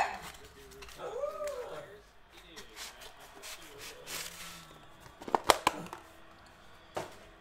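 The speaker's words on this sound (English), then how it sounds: "He's pretty ferocious. What a guard dog." A dog at a store whimpers in high, wavering whines and gives a few sharp yips, close by, amid rustling and handling noise while people talk.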